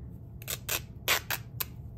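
Several crisp scissor snips cutting through rusty fabric during a mixed media craft project, about six quick cuts close up in a quiet room.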